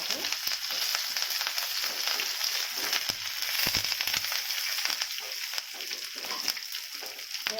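Cumin, mustard seeds and curry leaves crackle in hot oil, a dense, close sizzle peppered with sharp popping seeds that keeps going throughout.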